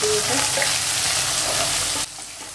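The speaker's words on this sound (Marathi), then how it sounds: "आणि यामध्ये मी आता शिमला मिरची शिमला मिरची पण परतून घेते" Capsicum sautéing in a pan with browned garlic gives a steady, fairly loud frying sizzle with faint stirring, then the hiss drops sharply to a quieter sizzle near the end.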